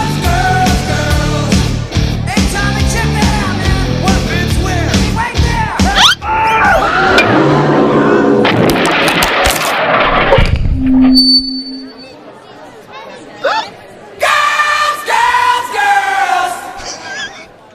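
Concert crowd at a live show captured on a smartphone, loud dense music and cheering for the first half, then a quieter stretch of milling crowd noise and scattered shouts.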